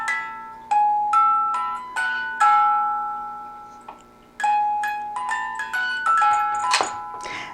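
A musical antique car decanter shaped like a Cadillac plays a clear chiming music-box melody of plucked notes, close and alone with no talk.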